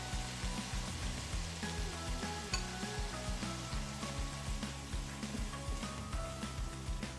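A fish curry sizzles steadily in a pan just after chopped coriander goes in, a dense, even crackle and hiss throughout, close and fairly loud, with a low humming tone running underneath and no voices.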